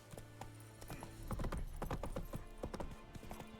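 Roach the horse trots in a video game, hooves clip-clopping in a steady, fairly close rhythm that grows denser midway, with no talk over it.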